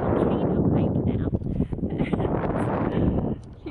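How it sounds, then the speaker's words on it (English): Strong, cold wind buffets the microphone on a volcano hike across an Icelandic lava field, a steady loud roar with gusty rumbling throughout. "it's really windy and cold"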